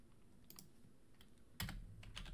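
Computer keyboard typed on in short bursts of quick, close key clicks, with a pause and then a louder flurry of keystrokes near the end.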